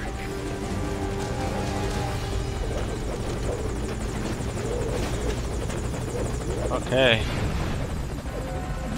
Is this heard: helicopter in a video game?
yes